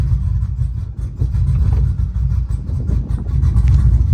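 Turbocharged 6-litre engine idling uphill in gear with the brake held, a loud, steady low rumble with slight uneven pulsing, close and alone.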